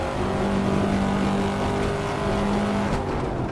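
A Corvette C7 Stingray in the racing game Assetto Corsa drives hard under steady engine drone, a loud continuous roar holding a sustained tone with faint tire noise.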